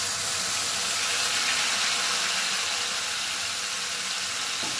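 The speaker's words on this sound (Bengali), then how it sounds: "বাটি ধোয়া সামান্য একটু জল এর মধ্যে দিয়ে দিলাম।" A splash of bowl-rinsing water goes into a pan of fried spice paste over a low gas flame while banana-flower curry cooks, giving a continuous close, even hiss of liquid meeting hot pan.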